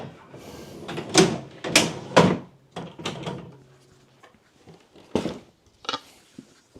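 An IKEA trading card storage shelf drawer is pushed shut, giving a series of sharp wooden knocks and sliding thuds, several in quick succession and then a couple more, close and fairly loud.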